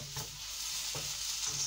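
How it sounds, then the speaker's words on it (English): Butter chickpeas sizzling in a pan, a steady soft hiss with three gentle stirring scrapes at regular intervals, close and quiet, with no talking. "Now I'll just stir this around and wait for that."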